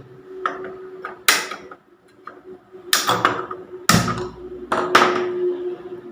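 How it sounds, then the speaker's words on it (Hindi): Gas stove being switched on in a home kitchen: several sharp clicks from the igniter knob, spaced irregularly over a few seconds, close and crisp with quiet gaps between. "अब गैस ऑन करेंगे।"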